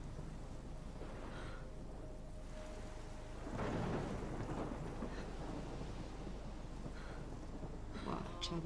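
A thunderstorm in the video game Life is Strange, with steady rain and wind and a deep rolling thunder crash in the middle, faint murmurs of talk underneath.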